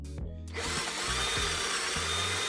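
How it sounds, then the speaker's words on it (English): A power drill bores into the key lock of an electric bicycle, a steady whining motor with grinding bursts as the bit bites into the metal, close and continuous. "Insert a drill into the keyhole and make the hole larger."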